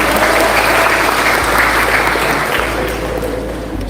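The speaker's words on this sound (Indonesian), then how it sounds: "Tepuk tangan buat teman-teman." A university hall audience applauds new students during a speech at Universitas Islam As-Syafi'iyah, a loud, dense and continuous wash of clapping that holds steady for several seconds before easing slightly toward the end.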